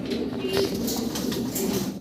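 Jet black and Andalusian fancy pigeons coo softly and steadily at close range, low rolling calls repeating over a continuous background hum.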